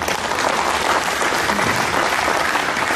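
Loud, dense applause from an audience at a Korean company's New Year opening ceremony and awards, continuous clapping throughout without any voices.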